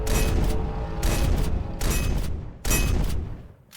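A modded gun in Minecraft fires four heavy booming shots spaced about a second apart, each a loud, bassy burst that rings briefly before the next.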